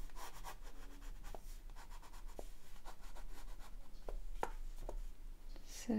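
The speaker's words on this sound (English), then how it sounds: "do just a little bit more of the shading with that slightly lighter" A fine ink pen shading on paper gives soft, faint scratchy strokes in quick repeated bursts, with a few sharper light taps between them, close and quiet.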